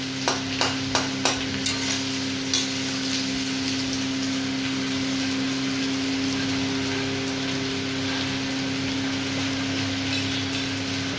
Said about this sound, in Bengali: পেঁয়াজটাও ভাজা হয়ে যাচ্ছে আলুর সাথে